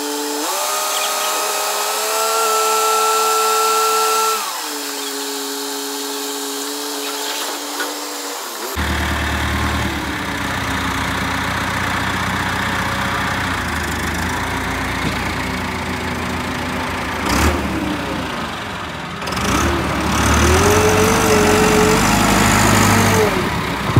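A tractor engine idles steadily while a trolley unloads soil fill at a house foundation site, a loud close drone whose pitch shifts and steps as the engine revs up and settles, running throughout with no talk.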